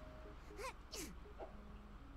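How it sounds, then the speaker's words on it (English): A Sims character in The Sims 3 lets out a couple of quick sneezes, two sharp breathy bursts close together, followed by a softer whimpering sound over quiet game background tones. "She's got the sneeze."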